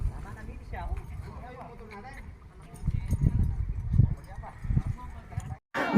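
Carabao hooves thud and clop unevenly during a water buffalo race in Arayat, Pampanga, mixed with crowd noise and a loud thump near the end.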